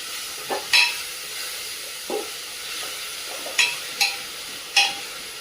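Taro and sorrel leaves stir-fry in a pan for a Marathi home-style dish, with a steady soft sizzle under scattered scraping stirs and light clinks of the spatula, no voices.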